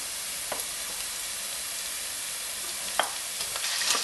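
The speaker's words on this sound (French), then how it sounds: "on essaye de saisir la viande." Meat sears in olive and sunflower oil with onions, a soft continuous sizzle and hiss broken by a few faint scrapes of stirring.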